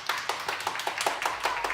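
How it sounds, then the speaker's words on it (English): Applause for two women's officer candidates at a student union question time event, a short burst of steady clapping from a modest crowd with no talking. "If you can give them a round of applause, please."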